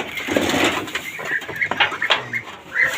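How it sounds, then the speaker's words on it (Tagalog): White chickens clucking softly up close, with short chirpy calls and scratchy movement around them. "yung puti na manok"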